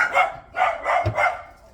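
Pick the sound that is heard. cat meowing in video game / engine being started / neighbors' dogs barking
neighbors' dogs barking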